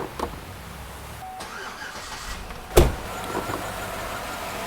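A Chevy Avalanche with a misfire is started: a quiet stretch with faint clicks, then a sharp burst as the engine cranks and catches, settling into a lower, uneven running sound.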